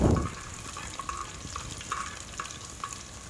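Garlic fries in oil for a chicken liver and gizzard masala, giving a steady low sizzle with soft bubbling and occasional spoon scrapes against the pan, starting with a brief louder burst.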